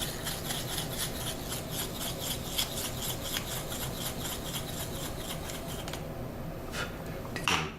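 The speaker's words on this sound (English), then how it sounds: "with a sharpener, take my sharpener here" A pencil's graphite lead turned in a lead sharpener, producing a rapid rhythmic scraping and rasping that runs steadily, then briefly stops near the end before a couple of small taps; no voices.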